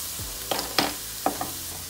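Creole vegetable mix and minced garlic sautéing in olive oil, a sizzling hiss broken by a few quick spoon scrapes and taps against the pan.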